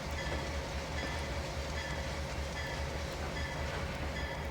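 A freight train in the Trainz 22 simulator rolls slowly along with light braking applied, giving a steady rumbling wheel-and-track drone with faint rhythmic clicks and a thin brake squeal throughout.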